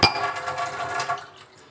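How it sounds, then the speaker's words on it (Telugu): Two glasses of water splash and pour into a metal pot for buttermilk curry, a bright clattering gush at first that trails off into lighter trickling, close by. "నేను టూ గ్లాస్ ఆఫ్ వాటర్ పోసానండి"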